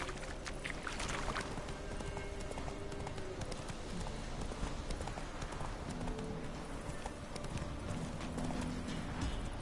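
Roach the horse gallops in The Witcher 3, with steady clip-clop hoofbeats running throughout under game ambience and occasional background noise.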